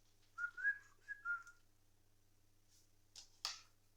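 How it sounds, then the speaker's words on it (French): A person whistles a short, clear melodic phrase of a few rising and falling notes in a quiet room, followed by a couple of brief soft clicks and taps, with no talking. "Pardon, j'ai sifflé, je sais"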